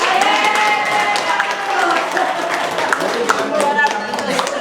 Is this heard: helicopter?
no